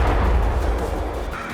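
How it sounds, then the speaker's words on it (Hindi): A loud, dense explosion rumble at an S-300 air defense site in Mykolaiv, Ukraine, struck during a Russian attack; one sustained booming roar fills the short stretch with no voices. "यूक्रेन के निकोलेव में ये जोरदार धमाका S-300 एयर डिफेंस में हुआ।"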